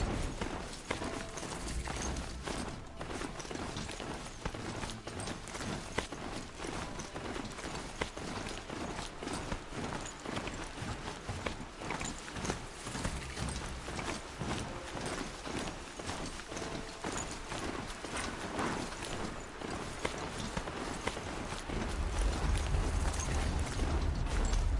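Horse hooves galloping in the video game Horizon Zero Dawn, a fast, steady clip-clop rhythm running throughout at moderate volume, with a low rumble swelling near the end.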